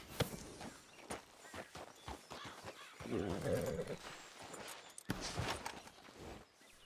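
A white Arabian horse in Red Dead Redemption 2 walks with steady hoof clip-clops and a brief whinny, close and moderately loud, with someone talking over parts of it.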